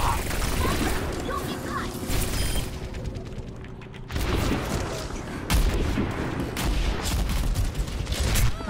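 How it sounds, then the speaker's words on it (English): Sentry turrets in Overwatch fire rapid, sustained bursts of automatic gunfire, with mechanical clanks and in-game effects layered throughout. Voices can be heard over the chaotic battle noise. "Fucking sentry turrets."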